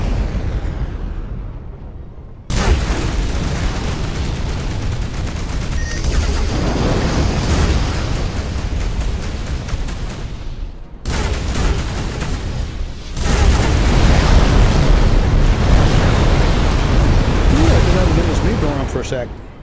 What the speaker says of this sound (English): One of the enemy ships has been destroyed.